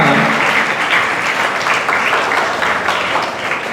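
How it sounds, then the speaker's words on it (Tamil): Audience applause at a Rotary Club school project inauguration in Chennai, a dense, steady wash of many hands clapping that stays full and even for the whole stretch with no talk over it. "அவருக்கு ஒரு நல்ல ஒரு கைத்தட்டல் கொடுக்கணும்"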